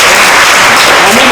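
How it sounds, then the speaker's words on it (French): A classroom of pupils applauding a classmate's work, loud continuous clapping that fills the short moment without any talk. "Oui, applaudissez."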